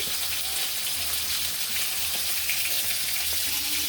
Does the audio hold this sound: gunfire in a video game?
no